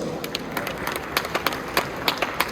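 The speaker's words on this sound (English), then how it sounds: "Can you please give him a round of applause?" An audience at a food and drinks trade event in Malaysia applauds, a crowd of scattered hand claps with sharp individual slaps, fairly close.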